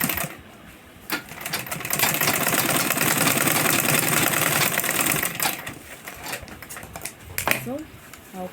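A sewing machine stitches a fabric sling bag in a long continuous run of rapid mechanical clatter, with brief starts and pauses around it and no talking.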